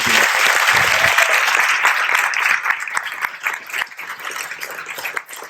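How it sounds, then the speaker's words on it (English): Audience at a veterans rededication ceremony gives a big round of applause for the veterans, dense clapping loud at first and then thinning into scattered claps as it fades over several seconds. "could we please give a big round of applause for our vets here?"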